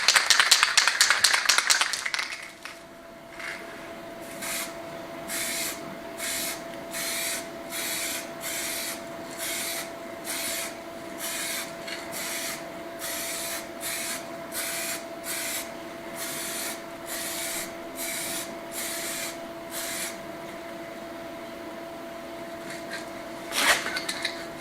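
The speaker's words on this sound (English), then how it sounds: "my paint's warm enough now, so I'm going to stick a coat on these" Paint is sprayed in a coat onto wooden pieces during a finca restoration in Spain: a long run of regular short hissing bursts over a steady mechanical hum, close and fairly loud, with no talking.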